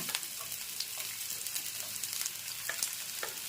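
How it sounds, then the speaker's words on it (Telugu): Onions frying in oil in a pan alongside goat brain, a close, steady sizzle and crackle with light stirring clicks throughout, no voices. "ఇప్పుడు ఉల్లిపాయలు వేసుకుంటున్నాను"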